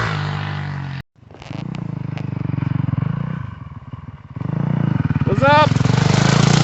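Honda CR 250 two-stroke motorcycle riding past, its steady buzzing drone cutting out briefly before returning louder and rising in pitch near the end, under a continuous close engine hum with faint talk.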